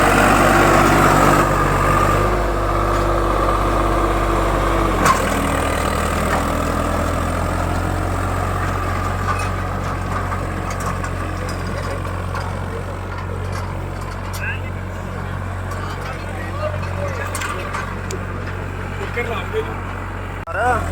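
Tractor engines, a Swaraj 855 and a Kubota 5502 in a pulling contest, drone steadily with a deep low rumble that shifts in load midway, while people talk over them throughout.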